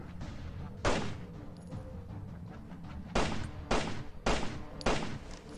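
Several sharp gunshot blasts from the mobile zombie game Zombie War: Rules of Survival ring out over a steady background drone, one early, then a quick cluster of three or four near the end.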